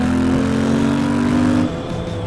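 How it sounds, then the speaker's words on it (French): A Royal Enfield motorcycle engine hums steadily and loudly up close, a continuous low throb that drops slightly in level near the end, with no voices. "Entendre quand même le moteur ronronner."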